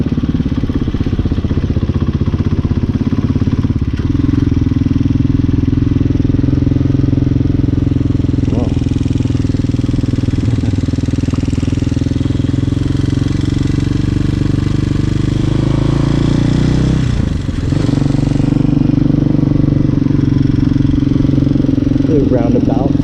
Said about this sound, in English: People who like motorcycles like riding over here.